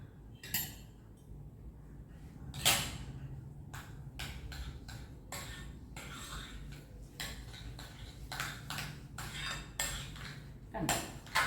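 Egg sandwich filling with finely chopped spring onion is stirred in a bowl, a spoon tapping and clinking against the dish in a quick, irregular run of sharp clicks over a faint background hum.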